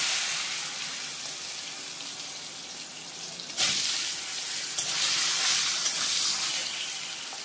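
Potatoes and green bananas hiss and sizzle in hot oil with panch phoron, a steady bright frying sound with a couple of sharp clatters as pieces are added or stirred, close and continuous.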